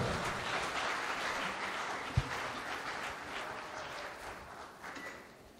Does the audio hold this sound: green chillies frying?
no